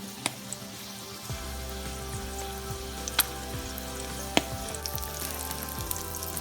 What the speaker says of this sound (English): Now omelette is cooking,